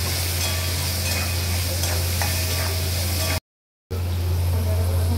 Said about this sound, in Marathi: आता कांदा हा चांगला लालसर आणि गुलाबी रंगावरती मस्त फ्राय करून घ्यायचा